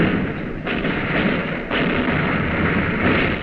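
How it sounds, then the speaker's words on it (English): Naval gunfire from the cruiser USS Boise, a dense, continuous roar of heavy shellfire and blasts with a sharp burst near the start and another midway, loud and close with no talk. "Now the shells are hitting the enemy cruiser."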